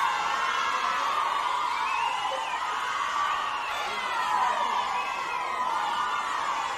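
A home crowd at an artistic swimming World Cup in Montpellier, France cheers and welcomes a French solo swimmer with a steady, dense roar of shouts and whoops from a large arena audience.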